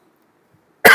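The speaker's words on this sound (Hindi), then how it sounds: "आपको खांसी हो गया, क्या हो गया?" After near silence, a single sharp, loud cough bursts out close by at the very end.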